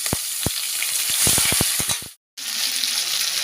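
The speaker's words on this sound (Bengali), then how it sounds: "আর তেলটা দেখো গরম হয়ে গেছে, আমি চিংড়ি মাছগুলো ভেজে নিচ্ছি।" Prawns marinated in lemon juice frying in hot oil, a loud steady sizzle with sharp popping spatters, broken by a short silent gap before the hiss resumes.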